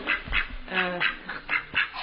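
Several short, nasal quacking calls come in quick succession, fairly close and moderately loud, with an uneven rhythm.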